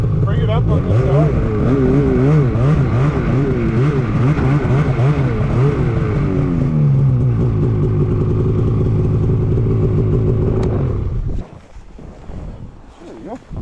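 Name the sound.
snowmobile being driven forward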